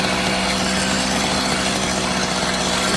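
A small engine idles loud and close, a dense continuous buzzing rumble that holds steady without breaks for the whole stretch, no voices.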